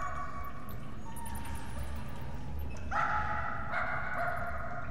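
A dog barks and yips in the video game Somerville, a series of sharp barks and whimpers over a steady low ambient rumble, moderately close with no talk.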